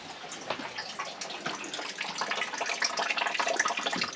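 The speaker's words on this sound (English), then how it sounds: "let's go check out how the water's flowing now" Water runs steadily from a water softener drain line during a low backwash flow check, a continuous faint splashing hiss that builds slightly toward the end, with no voices.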